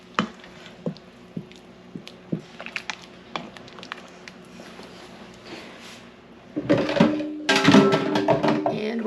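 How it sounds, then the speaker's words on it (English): Frozen peas and cream being stirred into Instant Pot chicken and dumplings: soft, wet squishing and scraping strokes, faint and sparse at first, then louder, denser sloshing toward the end. "We're going to stir all this together."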